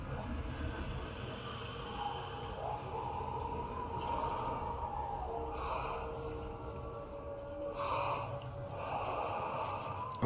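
Heavy, ragged breathing and snorting from a creature in the dark fantasy game Hellblade: Senua's Sacrifice, looping steadily for the whole stretch under an ominous low drone.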